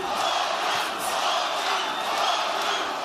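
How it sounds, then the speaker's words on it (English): Dense arena crowd at a Lomachenko boxing bout at Madison Square Garden, a loud sustained roar of cheering and shouting with no break across the few seconds. "The crowd support this early in a Loma fight"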